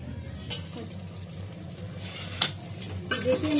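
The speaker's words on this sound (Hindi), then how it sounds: "देखिए हमारी दही भूनने लगी है।" Yogurt frying in a pan for chicken korma, a soft steady sizzle running throughout with a few clinks of a spoon against the pot, under faint background voices.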